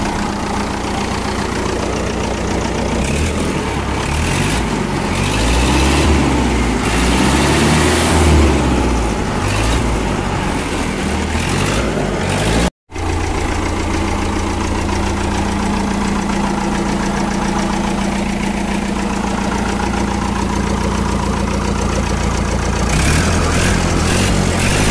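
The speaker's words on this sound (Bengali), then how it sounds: "ইঞ্জিনের আওয়াজটা আমি স্টার্ট করে গাড়িটা দেখাই দিচ্ছি" A Trafi Gajraj 5900 truck's diesel engine runs at a steady, knocking idle up close, briefly cutting out midway and then settling back into a constant rumbling idle.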